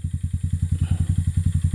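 A motorcycle engine on a dirt trail chugs in a fast, even pulsing rhythm at low revs, loud and close with no talk over it.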